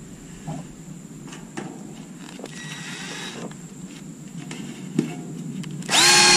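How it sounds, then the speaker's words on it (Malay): A power drill drives screws into the metal supports of a cheap house frame. It whines in short bursts between quieter pauses, close up, and ends in a louder sustained whir. "So sekarang kita akan pasang skru kat sini"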